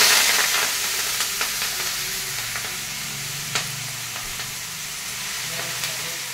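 Greens fry in a hot pan with a loud, steady hiss of sizzling oil and faint scattered stirring clicks throughout.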